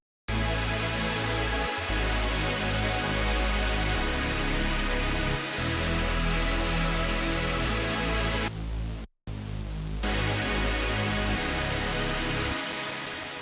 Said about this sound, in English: I added a Reese to it for the low end.